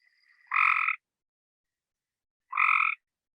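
Cope's gray tree frog calling in the northern Blackland region: two short, harsh buzzing trills, each about half a second long, separated by a pause, clear and close against near silence.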